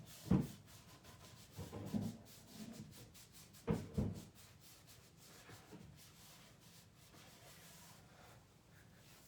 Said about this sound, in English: I'm just kind of wiping that back.